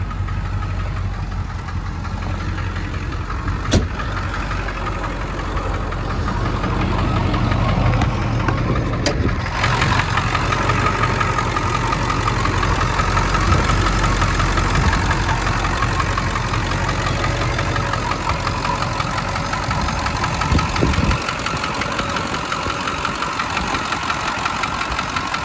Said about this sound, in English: Belts are making a little noise. Could be the AC compressor, maybe.